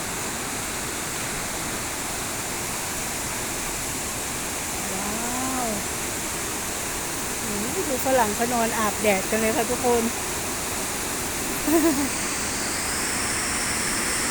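Mo Paeng waterfall in Pai, Thailand, swollen in the rainy season, makes a steady broadband roar throughout while someone talks over it in Thai.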